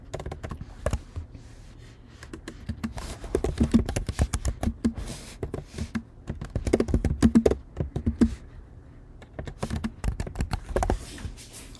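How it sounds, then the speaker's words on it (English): Steady close typing on a computer keyboard, with bursts of rapid clicking and short pauses between runs of keystrokes and no speech. "Then I'm going to type in here"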